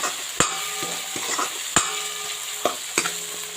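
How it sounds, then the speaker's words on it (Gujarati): Onion, garlic and tomato fry in a pan with a soft, steady sizzle. Sharp clinks of a spoon stirring against the pan sound at irregular intervals. "ડુંગળી ટામેટાં શેકાય છે"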